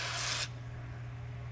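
A can of Fluid Film black undercoating aerosol sprays onto a Ram 3500 in one short, loud hiss lasting under half a second, followed by near-quiet.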